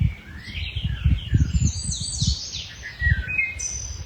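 Spring birdsong: several birds chirp and whistle in rising and falling phrases, lively and fairly close, over soft low rumbling bumps, with no voices.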